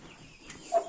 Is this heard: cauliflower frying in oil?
no